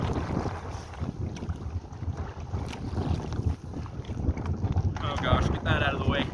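Gusty wind buffets the microphone out on open ocean water from a canoe, a steady broadband rush with low rumble and some hiss rising near the end.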